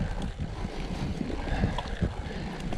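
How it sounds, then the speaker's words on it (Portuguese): Dry, dusty wind blows steadily, a broad rushing roar with buffeting gusts against the microphone and no voices. "A poeira, o vento."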